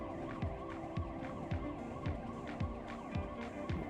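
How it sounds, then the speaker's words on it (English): Sirens in the video game Cartel Tycoon wail in a repeating rising and falling pattern, several overlapping at moderate distance over a steady background hum. "I'm hearing sirens, but I thought they were after me."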